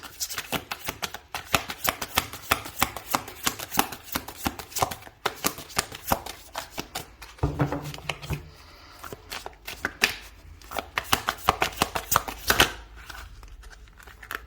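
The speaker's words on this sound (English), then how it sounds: "I'm going to shuffle again." Tarot cards being shuffled repeatedly, rapid riffling bursts of flicks and taps coming close and crisp, with a brief pause midway.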